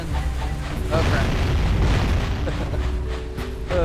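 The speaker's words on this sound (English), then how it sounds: "gotta be careful with the cannon over here" A cannon fires explosive shots in the video game Jak and Daxter, a loud sustained rumbling boom with layered blasts over game music and ambience, continuous throughout.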